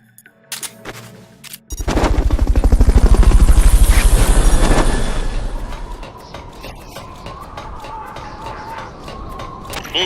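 Helicopter in the video game Metal Gear Solid Peace Walker, a loud rapid rotor chop rising and swelling to a peak then fading into a lower steady drone, with scattered game sounds.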